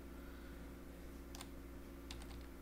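Soft keystrokes on a computer keyboard, a few quick clustered taps over a steady background hum, faint and close, during data entry of a monthly rental invoice.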